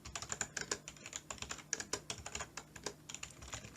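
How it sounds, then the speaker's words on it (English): Rapid, steady clicking of keys on a computer keyboard as numbers are entered into an Excel spreadsheet, with crisp close taps in uneven bursts and no voices. "I'll just type in some numbers"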